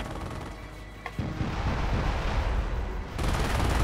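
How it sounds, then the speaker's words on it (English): A rocket barrage strike in Company of Heroes: a rolling wall of dense, continuous blasts and rumbling detonations, loud and sustained with no talk over it. "so this is what the rocket barrage does"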